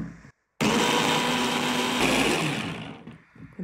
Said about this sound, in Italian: E ora chiudiamo il nostro piccolo frullatore e andiamo a frullare bene il